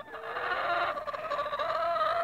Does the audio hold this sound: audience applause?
no